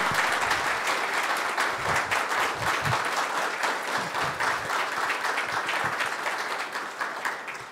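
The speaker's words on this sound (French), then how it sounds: "Montrons-leur comment on peut applaudir." An audience applauds after a masterclass on bond portfolio management strategies, a dense, sustained burst of clapping from a large hall crowd that fades slightly toward the end.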